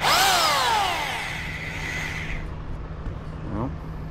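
A power drill in drill-only mode whines loudly at first, its pitch sweeping down as it bites while installing threaded rod anchors, then settles into a steadier, fainter grinding hum.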